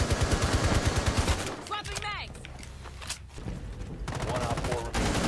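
Rapid bursts of rifle fire in a Rainbow Six Siege match, loud and rhythmic at the start, dropping away to quieter sounds mid-stretch, then returning in a sharp closing burst, with players talking over it.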